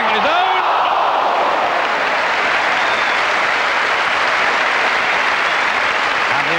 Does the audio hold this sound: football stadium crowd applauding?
yes